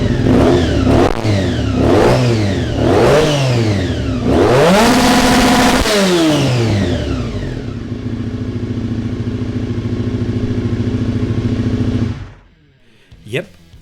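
An Aprilia RSV4 RR superbike engine blips through several quick, loud revs, then climbs and holds near the red line before cutting off abruptly, leaving a brief faint tail.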